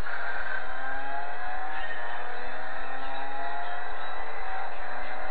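A car engine in Gran Turismo 4 revs steadily and loudly under full throttle, a continuous synthesized drone with a Nissan Skyline-style tone that holds on without pause.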